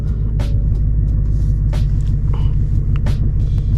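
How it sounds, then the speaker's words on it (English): A 2024 S650 Mustang idles with its engine straining against the held brake, a loud, steady low rumble with a few faint higher clicks and noises over it. "my foot's on the brake and the car is trying to accelerate itself"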